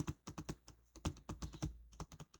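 Keys clattering on a computer keyboard while entering text into spreadsheet cells, a close, quick run of irregular clicks with brief pauses and no talking.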